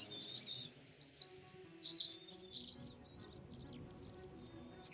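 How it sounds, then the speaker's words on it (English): Tree swallows defending a nest box give quick bursts of high, thin chittering calls, several sharp clusters spread over a few seconds above quiet outdoor background noise, fairly close. "as soon as a home invader appears, rapid-fire chittering breaks out."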